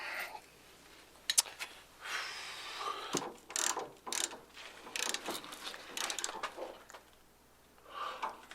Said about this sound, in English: this nut goes to about 65 foot-pounds of torque, and we're just getting it nice and snug